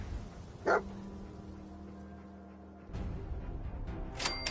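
Dogmeat, the dog companion in Fallout 4, gives a single sharp bark early on over a quiet background hum, followed later by some soft rustling and brief clicks.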